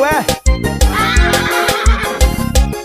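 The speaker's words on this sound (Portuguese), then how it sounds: "vou sair no meu cavalo" A horse neighs with rising whinnies early on, heard amid a loud Brazilian vaqueiro-style forró music show with a steady beat and singing voices throughout.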